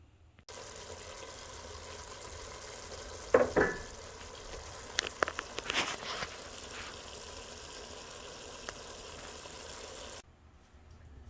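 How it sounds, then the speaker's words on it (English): Ackee and saltfish simmering in a pan, a quiet steady bubbling hiss with a brief burst of clatter and a few light knocks partway through, then the sound cuts off near the end. "Just let this simmer for 5 more minutes."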